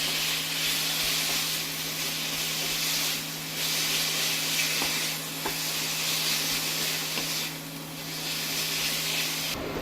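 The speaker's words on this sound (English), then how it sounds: "we're just going to get a quick sear on our beef." Beef sears and stir-fries in a very hot wok, a loud continuous sizzle and hiss that swells and eases in waves as the meat is tossed, with a steady hum underneath.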